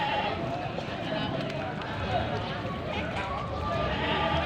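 Goats bleat intermittently at a rainy outdoor livestock market, the calls rising over a dense background of crowd murmur and general market bustle.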